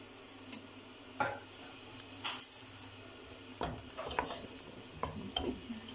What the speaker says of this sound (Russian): И хорошенько орехи тоже перемешаю.